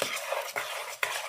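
Mashed banana being stirred into sugar, butter and an egg in a bowl, a wet scraping swish repeating in three quick strokes, close and steady with no talk.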